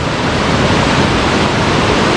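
Khlong Lan waterfall in full flow, a steady, loud roar of rushing water with constant broadband rumble and no let-up.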